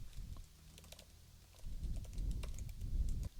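Keys tapped on a computer keyboard while entering a short heading in a design app, a quick irregular patter of soft clicks growing busier toward the end, close and quiet with no talking.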